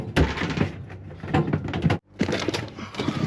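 Drawers packed with sea fishing bait such as prawn are shoved shut one after another, giving a series of knocking, sliding thuds with a brief pause in the middle, close and loud with no talking.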